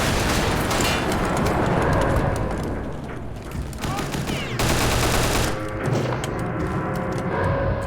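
Rapid gunfire in a World War II-style shooter against German soldiers, dense loud bursts of automatic shots with booming impacts, rolling almost nonstop with brief lulls, loud and close.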